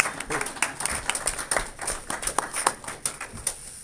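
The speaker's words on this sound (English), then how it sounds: "We'll find out later which parts they were clapping for" Audience applause at an alumni conference after a talk, a modest crowd clapping steadily with overlapping hand claps, fairly near and moderately loud, with faint murmuring beneath.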